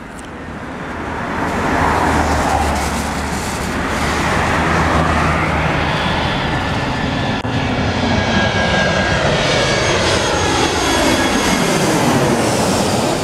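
A TAM jet airliner roars loudly as it passes close overhead landing on runway 08 at Rio de Janeiro's Galeão International Airport, a broad rushing engine noise that swells and holds steady for several seconds.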